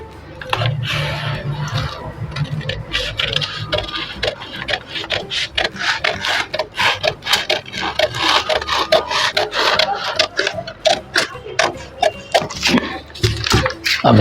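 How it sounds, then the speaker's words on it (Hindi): Scissors snip through blouse fabric during tailoring, a busy run of sharp crisp cuts and rustling cloth with a low hum in the background, close and steady, no voices. "तो चलिए हम पहले इसको कट कर लेते हैं।"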